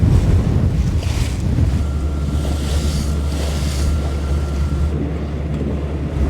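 Sailboat Tessie motoring under engine with a new Gori folding propeller, a loud steady rumble blended with rushing water and wind buffeting the microphone, continuous throughout with no talking.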